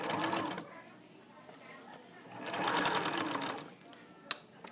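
A sewing machine edge stitches along a garment hem in two bursts of rapid mechanical whirring and clatter, with a quiet pause between them and a small click near the end.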